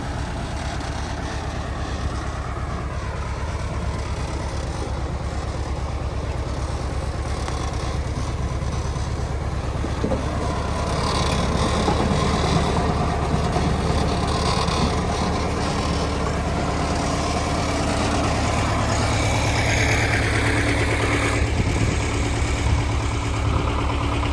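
A small tractor engine idles nearby in a village garden at potato planting, with a steady low chug, its pitch and loudness shifting slightly partway through.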